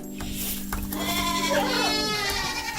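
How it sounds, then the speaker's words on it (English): Newborn goat kids on a small homestead bleat in quick, wavering cries close by, one call sliding and quavering over a steady background drone. "are some little goats that were just born this year"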